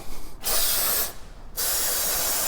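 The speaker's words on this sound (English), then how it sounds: "I'm spraying it. I want to spray it again. There's my spray." Two loud, sustained hissing bursts from an aerosol spray can sprayed onto a stuck nut on a Morris Minor, separated by a short pause, with no talking.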